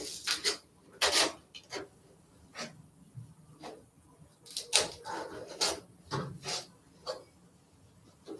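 A hand scraper rasps across a rusty metal surface in short, uneven strokes, each burst a gritty scrape separated by brief pauses, close and fairly loud against a quiet background.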